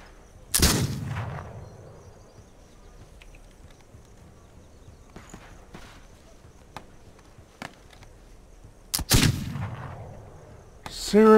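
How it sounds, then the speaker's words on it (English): Rifle gunfire in the multiplayer game This Land Is My Land, with two loud, sharp nearby shots several seconds apart, each with a ringing tail, and fainter distant cracks and clatter between them. "Dudes are dodging freaking rifle rounds."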